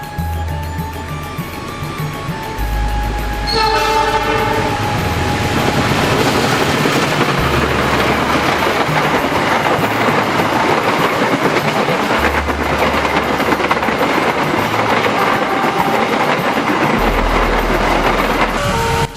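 A train on Indonesia's northern line passes through forested countryside, loud and close, with a rising rumble, steady rolling wheel clatter and low engine drone filling the whole stretch.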